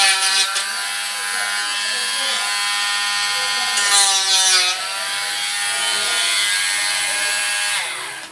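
A multi-tool sands the wooden side walls of a boat, giving a loud, steady high-pitched buzzing whine that holds for several seconds and shifts pitch slightly as pressure changes.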